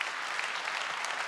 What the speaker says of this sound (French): Applaudissements pour Cécile Neven.